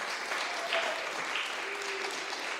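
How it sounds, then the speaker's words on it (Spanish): A church congregation claps together during a Spanish-language worship service, giving a dense, even patter of many hands at moderate distance that holds steady throughout with no talking over it. "Dale un aplauso al Señor"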